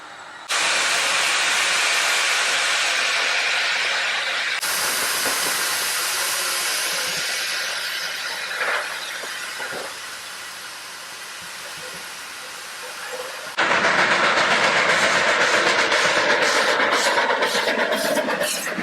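A steam locomotive sits at the head of a South African special train about to depart on a grand tour. Loud, continuous steam hissing shifts in intensity, first eases somewhat, then surges to a harsh, sustained blast near the end, with no voices.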